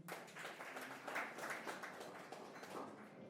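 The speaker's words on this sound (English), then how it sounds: "A round of applause for Dr." Scattered applause from an audience at a ministry environmental assessment meeting, fairly faint and distant, a soft patter of clapping hands lasting a few seconds without talk.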